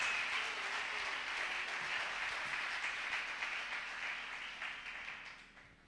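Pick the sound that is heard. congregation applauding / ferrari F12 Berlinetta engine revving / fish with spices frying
congregation applauding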